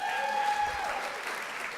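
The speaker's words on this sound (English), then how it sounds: "huge applause" Dense crowd applause, steady and sustained, with a faint whistle-like tone early on.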